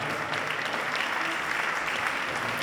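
Audience clapping for a singer at a literary awards ceremony, a continuous even patter of many hands, fairly distant and soft, with no break across the whole stretch.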